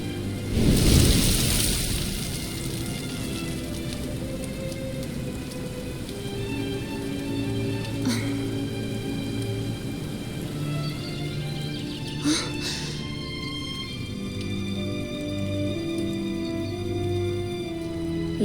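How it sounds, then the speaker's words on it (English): Steady rain falls in the video game Dragon Quest XI S, a continuous patter with distant thunder rumbling beneath, layered under sustained game music tones and a few brief chimes. "Looks like the rain's dying down."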